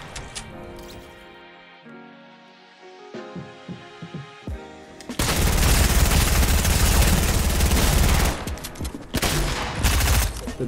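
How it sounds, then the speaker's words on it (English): Gunfire in the Fortnite battle royale game, with a dense, sustained burst of rapid shots dominating the second half over quieter game sounds and music before it. "I'm getting shot at."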